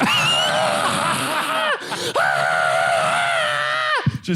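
A person screams loudly and continuously, the drawn-out shrieks breaking briefly near the middle before resuming at full strength.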